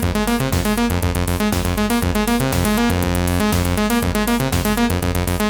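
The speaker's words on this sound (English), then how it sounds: "So for instance, this is what I've got going on for the first oscillator." The first oscillator of a b:ond through-zero FM synth module from b:art Instruments plays a sequenced pattern, a loud, bright, metallic tone stepping through rapid rhythmic notes without pause.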